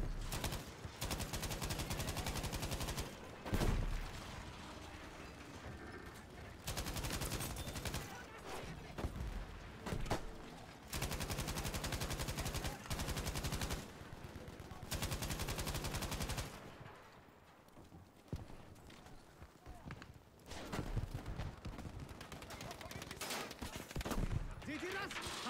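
Battlefield V gunfire rattles in repeated bursts of automatic fire broken by short pauses, loud and sustained, with a player's voice talking over parts of it.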